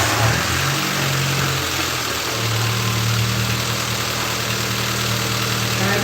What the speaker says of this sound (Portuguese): Vou virar o motor.